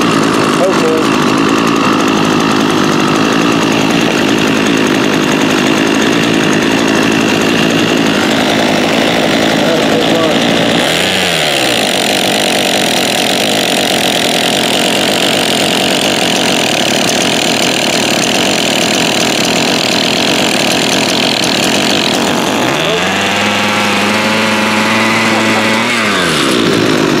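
A Ryobi RY28121 26cc two-stroke engine with a hedge trimmer attachment runs loud and close. It idles with a raspy buzz, then revs up and holds a high whine before dropping back and rising again near the end.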